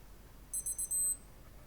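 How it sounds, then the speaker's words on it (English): A Casio G-Shock GWX-5600 watch's interval timer gives three quick high beeps and then one slightly longer beep, thin and faint against a quiet room. "it's going to give just a quick little couple of beeps when this goes."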